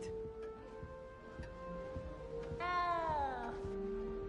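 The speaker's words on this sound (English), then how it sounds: "You don't need to be frightened, little cat." A little cat in a castle setting in a PS4 video game gives one drawn-out, falling meow over steady game music and ticking background sounds.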